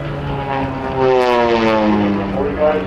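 Aerobatic propeller plane at the 2010 New Garden Airshow performing snap rolls on a climbing line: a loud, steady engine drone whose pitch shifts and wavers through the maneuvers, with an announcer talking over it.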